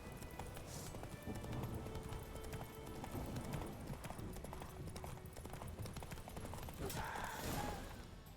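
Hooves of Roach, Geralt's horse in The Witcher 3, pound in a quick, continuous rhythm, close and loud over a busy bed of game ambience.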